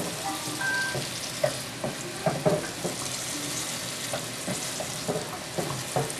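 White fish pan frying in oil, a continuous close sizzle with scattered pops and scraping clicks, alone with no voices.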